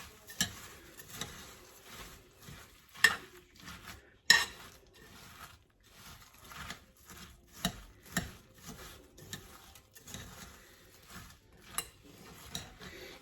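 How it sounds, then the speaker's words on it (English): A spoon clinks and taps against the side of a bowl while cracker salad with mayonnaise is stirred, giving sharp, irregular knocks and scrapes, close and fairly quiet, with no talking. "I didn't even think about this spoon might make an irritating sound"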